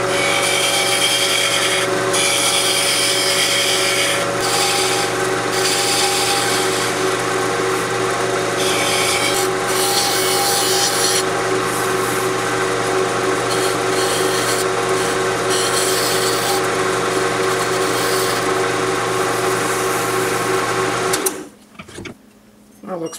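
A maple and walnut pen blank spins on a lathe while a tool takes light refining passes, a steady close whir with a scraping texture that stops abruptly near the end.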